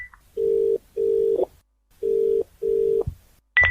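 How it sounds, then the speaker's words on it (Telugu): A telephone call goes unanswered as the caller hears a ringback tone: four evenly spaced buzzing tone bursts in pairs with short pauses, moderately loud and alone. "ఏంటి నాన్న ఫోన్ లిఫ్ట్ చేయట్లేదు?"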